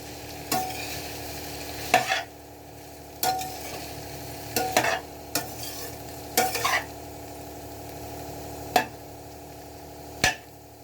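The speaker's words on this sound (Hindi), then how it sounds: "फिर इसको हम अच्छे से मिक्स कर देते हैं ऊपर नीचे से, ताकि ये सारी तरफ से एक जैसी पके।" Cauliflower sabzi cooks in a pan, a gentle sizzle underneath as a spoon stirs and scrapes at irregular intervals, each stroke a distinct knock against the metal.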